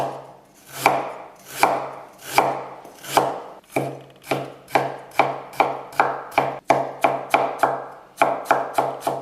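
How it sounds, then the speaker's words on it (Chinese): Knife chopping scallions and mincing ginger on a cutting board, rhythmic strikes starting slow and evenly spaced, then quickening into rapid closer-spaced chops, each hit sharp and close with no talking. "首先，我们多准备一些大葱切碎，再来切一些姜末。"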